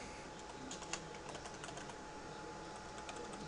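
Password being typed on a computer keyboard: a steady run of light, close key clicks with a few sharper taps, continuing evenly throughout with no voices.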